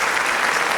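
A dense, steady wash of audience applause at a stand-up comedy show, many hands clapping at once and close, with no pauses for its short length.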